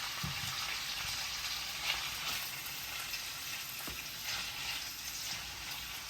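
Onion, chicken, chili and bell pepper frying together in a pan for Malaysian-style chili chicken, a soft, steady sizzle with faint stirring scrapes, fairly quiet and continuous, with no voices.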